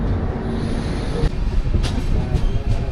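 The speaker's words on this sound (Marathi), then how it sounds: "संगमेश्वर रेल्वे स्टेशन आलेलं आहे" A train rumbles at Sangameshwar railway station, a loud close low roar with rolling wheel noise and a few brief sharp high squeals or clanks toward the end, no voices.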